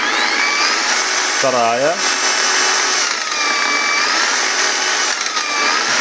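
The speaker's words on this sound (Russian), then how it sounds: "для начала просто включим болгарку" A Heimerdinger LB168 cordless angle grinder runs steadily at first and then second speed, a loud continuous whine with shifting pitch, while someone speaks briefly over it.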